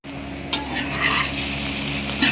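Chicken egg fried rice is tossed and stirred in a pan over a high flame, with scraping and clinks of the spoon against the metal over a bright sizzle, close by and with no voices.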